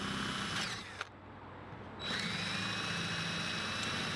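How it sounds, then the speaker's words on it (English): Power drill boring holes through wood for a DIY drill press head, a steady whirring motor with a brief dip and a click, then a higher whine, close and moderately quiet. "then drilled from the outside or inside out"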